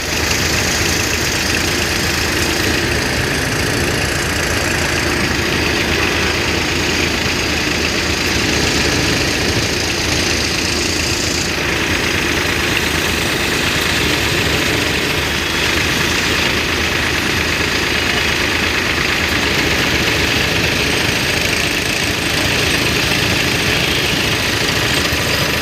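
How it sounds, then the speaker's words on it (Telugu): Tractor-driven hydraulic drill breaking rocks at a railway station redevelopment construction site, a steady loud engine drone with continuous rumbling vibration throughout, no talk. "ఆ రాళ్ళని పగలగొడుతున్నారు డ్రిల్లింగ్ చేసి"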